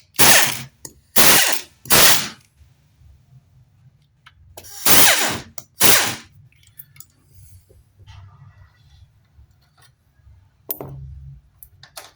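A power driver screws the head onto a Bosch GSK 150 circular saw during a gear and armature replacement, making several loud, rapid ratcheting bursts with short pauses between them and a last brief one near the end.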